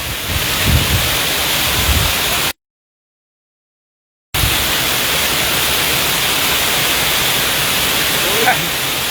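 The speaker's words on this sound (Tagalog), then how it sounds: "Umuulan." Heavy rain falls outdoors in Hong Kong, a dense, steady hiss that fills the scene, broken by a brief gap of silence, with faint voices and footsteps close by.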